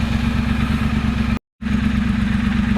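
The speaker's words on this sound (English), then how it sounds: "I gotta go take it for a rip around the block and see how she sounds." Motorcycle engine fitted with a British Customs Predator Pro Shorty exhaust, a deep, steady, loud rumble with fast pulsing firing beats, broken by a short silent gap midway.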